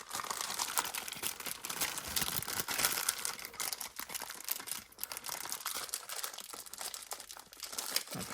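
Plastic toy packaging for a Takara Tomy Demon Slayer Mugen Train playset is cut and torn open, giving a steady, close run of crinkling and crackling with no talking.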